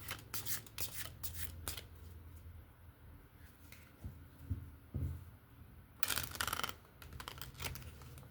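A pocket-size Hanson-Roberts tarot deck shuffled by hand, with several bursts of riffling card flutter, close and fairly quiet, broken by soft pauses and a faint thump or two.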